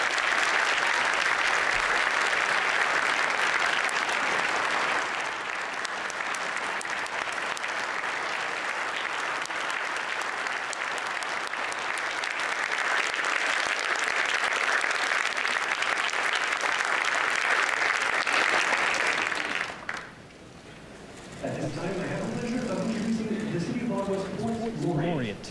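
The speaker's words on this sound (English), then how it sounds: "Please join me in congratulating them with a warm round of applause." An inauguration ceremony audience gives the 2022-2026 Ottawa City Council a long, warm round of applause, loud and continuous for about twenty seconds, then dropping away as a voice and music take over.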